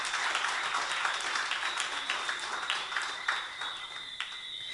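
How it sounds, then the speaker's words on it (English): Audience at a security guard company's annual award ceremony gives a round of applause: dense, fairly faint clapping from a crowd indoors, steady over several seconds and slowly thinning toward the end. "could we give them a little round of applause?"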